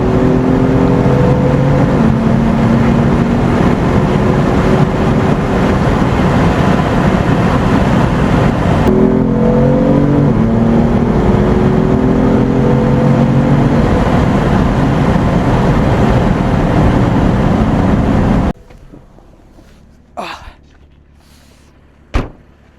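A BMW F82 M4 fitted with an Eisenmann exhaust driving hard at sunset, loud continuous engine and exhaust roar with rising and falling revs through gear changes, then cutting off abruptly into quiet with a few faint knocks.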